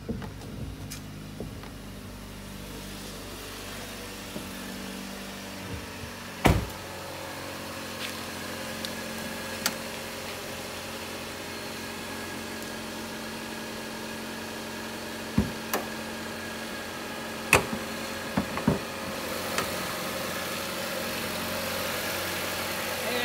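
A 2015 Jeep Compass 2.4-liter 4-cylinder engine idles steadily with a low, even rumble, broken by a few sharp clicks and clunks nearby.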